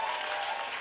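A church congregation at a Sunday service breaks into dense, steady applause, a continuous wash of clapping that fills the room for the whole moment.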